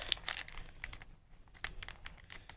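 Plastic blind bag being cut open at the top, giving a dense, close crinkling and crackling of thin plastic with a few sharp snips, continuous for a couple of seconds.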